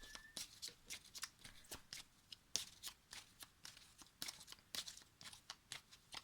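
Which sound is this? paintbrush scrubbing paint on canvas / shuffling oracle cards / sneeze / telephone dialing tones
shuffling oracle cards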